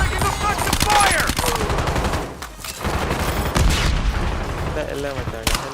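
Rapid gunfire in a shooting video game, dense automatic bursts and loud reports filling the scene, with a player's voice talking over the action.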